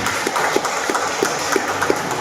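Audience applause at a farewell-and-welcome event for a children's organist program, a moderately distant, steady wash of many hands clapping with a few sharper, rhythmic claps standing out.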